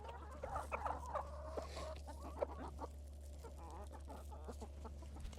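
Guinea fowl on a homestead give repeated harsh, clucking calls close by, in a steady chattering stream against a low steady hum.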